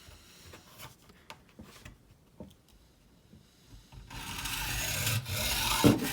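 A section of wooden dowel is cut for a broken fishing rod repair: a few soft taps and rubs at first, then a steady, close rasping saw stroke grows louder to the end.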